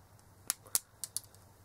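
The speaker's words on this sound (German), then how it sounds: "Biegen die Drähtchen um und schneiden sie ungefähr so 1 mm über dem Bund" Small side cutters snip the thin wire leads of LEDs, trimmed about a millimetre above the base while converting a string of fairy lights, giving four sharp, close clicks in two quick pairs against a quiet background.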